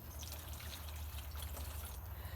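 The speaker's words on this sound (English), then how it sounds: "you can pour water into the spinach container" Water trickles steadily and softly into a spinach container holding potted plants, a continuous faint pour with no talking.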